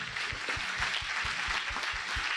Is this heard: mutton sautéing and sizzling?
no